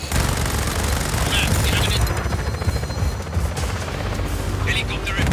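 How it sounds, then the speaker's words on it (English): Helicopter rotor drone and bursts of gunfire in the open-world action video game Just Cause 4, a loud steady low roar running throughout with scattered shots and radio chatter layered over it. "Helicopter inbound."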